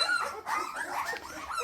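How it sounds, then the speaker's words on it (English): Several puppies on a porch yip, whimper and bark in quick overlapping bursts, close and fairly loud, with no voices. "her puppies have officially taken over the porch"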